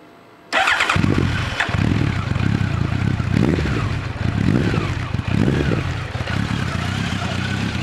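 An engine suddenly starts, then a Kawasaki Z2 motorcycle keeps running loudly nearby with an uneven, throbbing idle.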